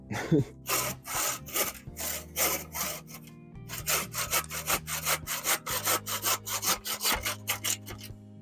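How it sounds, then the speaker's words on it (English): A small hand saw cuts through wood outdoors beside a shed, with steady rhythmic back-and-forth strokes in quick bursts, a brief pause between two cuts, close and clear with no talking. "nice little hand saw, and we'll chop all those off."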